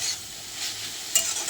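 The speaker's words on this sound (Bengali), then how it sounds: "এরপর কড়াইতে তেল দিয়ে আমি চাঁপা লোটের শাকগুলো ভালোভাবে ভেজে" Greens stir-fried in oil in a wok give a soft continuous sizzle with light stirring scrapes and a brief clink near the end.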